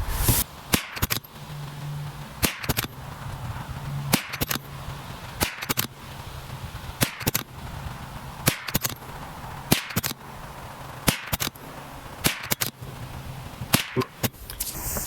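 Sharp .22LR rifle shots from a Tikka T1X firing Remington Golden Bullet ammunition, about a dozen cracks spaced unevenly across the stretch, each loud and abrupt over a steady outdoor hiss with a faint low hum.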